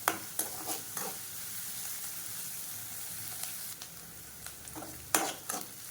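Onions sizzle softly in a pan, with occasional scraping stirs and clinks of a utensil against the pan.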